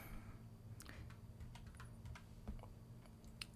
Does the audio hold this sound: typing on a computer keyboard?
yes